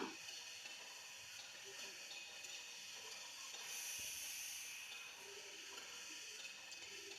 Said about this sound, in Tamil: கத்திரிக்காய் எப்போவுமே எண்ணெயில் கொஞ்ச நேரம் வதக்கி விட்டால் டேஸ்ட் நல்லாயிருக்கும்